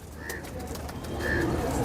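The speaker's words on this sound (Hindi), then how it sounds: "बहुत कमाल बटेरा कबूतर है।" A Bataira pigeon among fancy pigeons gives soft low coos, close by, with faint background noise and a couple of brief higher calls.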